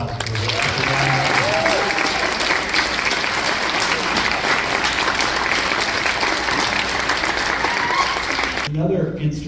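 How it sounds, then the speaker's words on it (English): Audience applause for a performer at a high school symphonic band spring concert, a sustained wash of clapping from a large crowd that fills the room for nearly ten seconds before cutting off sharply. "How about another round of applause for Ryan?"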